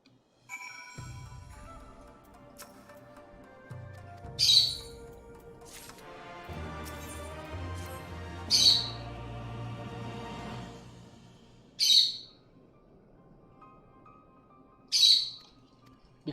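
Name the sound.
pet bird squawking and chirping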